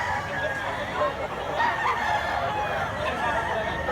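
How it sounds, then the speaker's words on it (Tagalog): A white leg rooster crows close by, its call drawn out over a few seconds against steady background noise. "White leg ang manok ni tatay"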